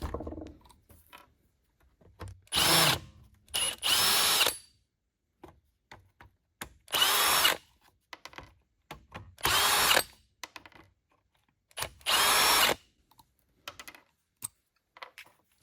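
A power driver backs T20 Torx screws out of a 4-cycle Craftsman weed trimmer: about six short, loud whirring bursts separated by quiet pauses and small handling clicks.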